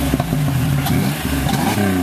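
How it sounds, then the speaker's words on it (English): Chevrolet Impala exhaust revving, heard from inside the car: a loud, steady engine drone with rising and falling pitch sweeps across the full two seconds, no talking. "Damn, that exhaust. You can hear it from inside."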